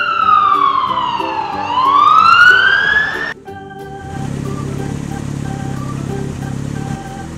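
A toy police car sounds a loud electronic siren that sweeps down and back up, then cuts to a different buzzing tone with a steady hum.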